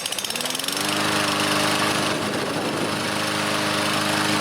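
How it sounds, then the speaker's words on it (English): A Briggs & Stratton 140 190cc small engine with a repaired auto choke, hot-started: a few quick pulls, then it catches and runs loud and close with a steady, rapid, rattling beat. "So let's now do a hot start."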